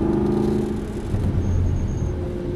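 An Aston Martin V8 Vantage accelerates on a track, a deep, steady engine rumble heard from inside the car, building slightly through the short stretch.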